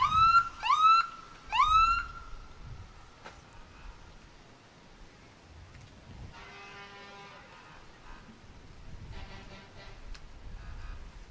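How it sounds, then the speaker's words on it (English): A few short police siren whoops sound in the first two seconds at a holiday parade, then a sustained multi-tone horn blares briefly amid crowd ambience and outdoor noise. "You hear the sirens"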